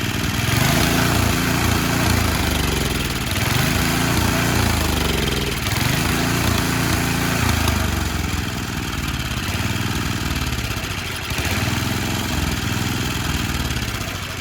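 A Toro snowblower engine pulls over and fires on the first pull, then runs steadily and loudly with a rough, surging idle and faint rhythmic wavering throughout.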